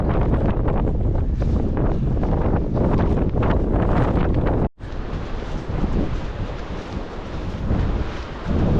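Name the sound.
strong wind on a coastal run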